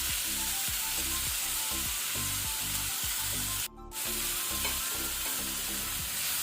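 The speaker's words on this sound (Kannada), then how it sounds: "ಟೊಮೆಟೊವನ್ನು ಸಹ ನಾವು ಒಳ್ಳೆ ರೀತಿ ಫ್ರೈ ಮಾಡ್ಕೊಳ್ಬೇಕು, ಸಾಫ್ಟ್ ಆಗೋ ತನಕ" A large tomato fries with ginger garlic paste in a pan for a ridge gourd sabji. Steady loud sizzling runs under a rhythmic scraping of stirring, with one brief sharp rasp midway.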